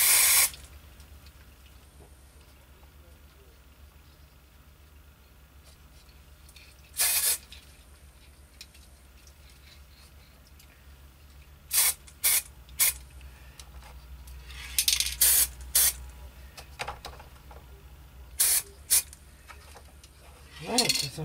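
Paint sprayed onto a Matchbox Y-14 Duke of Connaught model: short, loud hissing bursts of spray, a long one at the start, then a scattered series of brief puffs, separated by quiet gaps with faint background hum.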